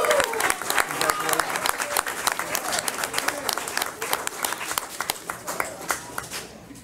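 Applause from the audience at a county board of education meeting, many hands clapping in a lively, uneven patter that gradually thins toward the end.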